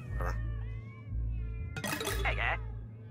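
A cartoon cat meows in the video game South Park: The Fractured But Whole, with a couple of short, close meows over a steady low game hum and no talking.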